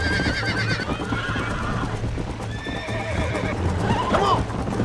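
Hooves clip-clop rapidly at a gallop while a horse neighs and whinnies repeatedly in Red Dead Redemption, loud and close, with a voice briefly heard.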